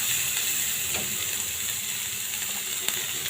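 Sliced onions fry in hot oil in a pan for a prawn dish, giving a steady, close sizzle with faint stirring clicks from the pan.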